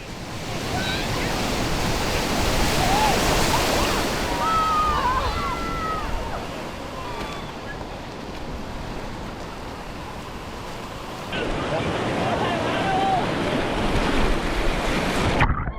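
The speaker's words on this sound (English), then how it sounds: "It's a pool, but it felt like a real wave and good surf" Surf breaking in an artificial wave pool at an urban surf centre, a steady loud wash of churning water with a brief lull before surging again, mixed with wind across the microphone and faint voices in the background.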